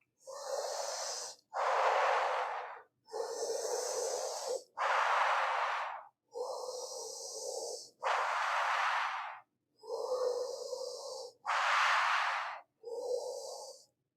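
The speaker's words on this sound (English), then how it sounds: "Let's just take a few breaths of Shitali, either rolling your tongue or pursing your lips like you're breathing through a straw." Shitali cooling breath is drawn through a rolled tongue or pursed lips during a yin yoga class, heard as nine long, breathy hissing inhales and exhales in slow alternation, close and unaccompanied by talk.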